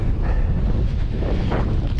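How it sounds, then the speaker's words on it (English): Strong wind on a fell hike buffets the microphone in a steady, rumbling roar with no voices. "It's windy."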